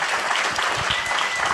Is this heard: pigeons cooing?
no